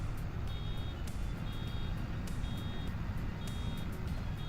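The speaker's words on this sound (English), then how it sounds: "It's beeping at me" A truck reverses in the Farming Simulator 25 video game, with a steady series of evenly spaced electronic backup beeps over a loud, constant engine drone.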